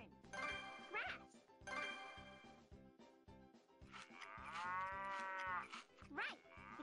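A cartoon cow in an animated children's show lets out several drawn-out moos over a rhythmic, bouncy musical backing, with the calls loud and close.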